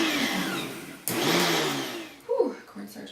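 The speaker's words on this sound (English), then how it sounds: "we're going to blend this up and give it a good mix before we add the rest of the ingredients" An electric blender mixes cupcake batter with cornstarch for healthy red velvet cupcakes, whirring steadily up close, jumping in loudness partway through before it cuts off and some brief kitchen clatter follows.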